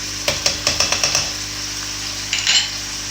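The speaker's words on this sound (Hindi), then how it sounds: "इसको हम अच्छे से इसके अंदर फ्राई कर लेंगे ताकि चिकन की स्मेल सारी ख़त्म हो जाए।" Chicken pieces with two tablespoons of ginger garlic paste being stirred in a pan for Punjabi chicken karahi, a run of quick scraping stirs and clatters followed by a pause and a brief further stir, close and moderately loud.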